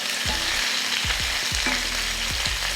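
Lemon chicken fry sizzles loudly in a pan, a constant close hiss punctuated by several low thumps and scrapes from stirring, with no voices.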